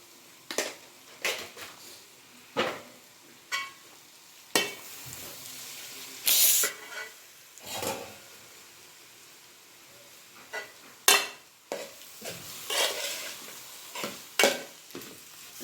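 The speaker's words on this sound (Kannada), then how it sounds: "ಚೆನ್ನಾಗಿ ಮಿಕ್ಸ್ ಮಾಡ್ಕೊಂಡಿದ್ದೀನಿ" Poha chitranna with fried onion and salt is stirred in a frying pan, giving intermittent scraping and sizzling strokes that come in irregular bursts, close and without talk.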